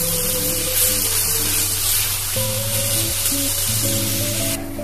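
Thankuni leaf paste mixture fries in a pan, giving a continuous loud hissing sizzle that stays fairly even throughout, with a steady low hum underneath and no talking.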